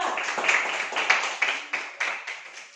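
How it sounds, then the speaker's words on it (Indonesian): Scattered clapping from a small classroom group of students, a few light irregular bursts at close range that build briefly then fade out, with no voices over it. "Beri tepuk tangan untuk kelompok 2."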